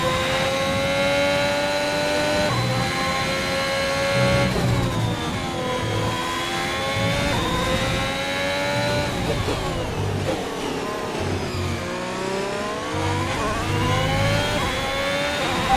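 Formula One race car engines in the F1 2021 video game, a loud continuous high-pitched whine rising and falling through gear changes as the cars accelerate and brake, close and alone.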